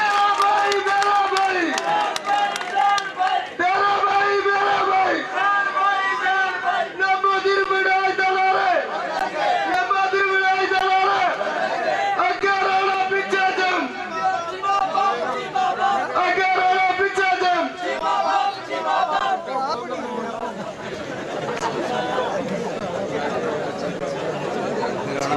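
A large crowd at a Pakistani political gathering chants slogans in loud, rhythmic unison, repeated phrases rising and falling over steady hubbub, with voices and scattered claps filling the space throughout.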